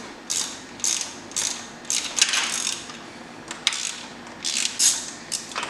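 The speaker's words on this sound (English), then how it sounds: "we're going to take our 16 millimeter deep socket and remove this nut right there." A 16 mm deep socket on a ratchet wrench loosens a nut in a car engine bay, giving a series of quick, close metallic ratcheting clicks in short bursts, with no talk.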